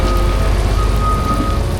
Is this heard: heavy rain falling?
yes